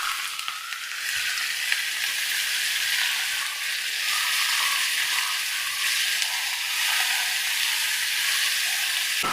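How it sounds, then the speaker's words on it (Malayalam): Sliced onions with salt sauté in a pan, giving an even, close, continuous sizzling hiss throughout with faint stirring scrapes underneath. "ആവശ്യത്തിനുള്ള ഉപ്പും കൂടെ ചേർത്ത് നല്ല പോലെ ഒന്ന് വഴറ്റിയെടുക്കാം."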